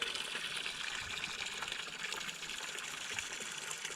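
Water gushing steadily from a homemade DIY well-drilling rig, a continuous broad rushing wash that holds even and unbroken throughout at moderate, close level.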